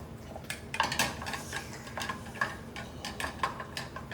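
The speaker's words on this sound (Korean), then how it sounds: "이렇게 해서 볶아주세요. 신맛 제거하는 거예요. 이런 식으로 지금 볶고 있습니다." A utensil clatters and scrapes in a pan while tomato paste is stir-fried, with quick irregular taps over a soft background hiss.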